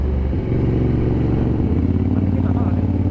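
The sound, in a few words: Ducati motorcycle riding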